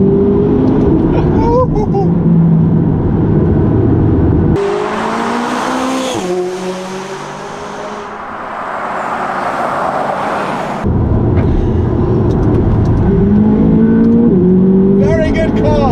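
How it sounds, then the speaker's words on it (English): A McLaren sports car's engine roars as it accelerates hard, pitch climbing through each gear with brief drops at the shifts, loud and close throughout. "Very good car! Third gear is brutal."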